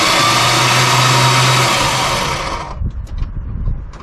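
A barn-find 1973 Dodge Dart Swinger, started for the first time in 29 years, roars loudly and steadily up close, then cuts out near three seconds into a lower, uneven clattering rumble.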